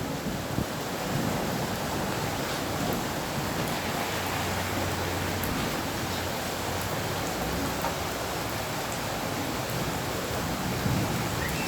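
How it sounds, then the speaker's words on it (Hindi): Heavy rain pours down steadily during flooding in Hazara Town, a dense, unbroken hiss that holds at an even level throughout with no voices and only faint low rumbles beneath. "बारिश अब भी जारी है काफ़ी शिद्दत से।"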